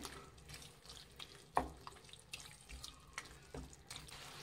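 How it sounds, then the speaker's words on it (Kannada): Water pours into a mixer jar while Mangalore-style chicken pulimunchi is cooked, a brief splashing fill with a sharp burst near the start amid light kitchen clatter, no talk. "ಅದೇ ಮಿಕ್ಸಿ ಜಾರ್ಗೆ ನೀರು ಹಾಕ್ಬಿಟ್ಟು ಹಾಕಿ"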